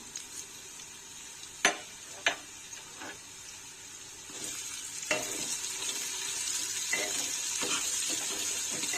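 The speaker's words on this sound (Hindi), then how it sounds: "हमें इसे मसालों के साथ भुनना है।" Onions frying in a pan with whole garam masala spices like cumin, cardamom, cloves and black peppercorns, giving a steady soft sizzle broken by a few sharp stirring knocks of a spoon against the pan.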